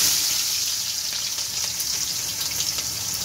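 Onions browning in oil that was left to heat for a long while, cooking for Afghani pulao; a steady, dense sizzle and crackle holds even and close throughout with no voices.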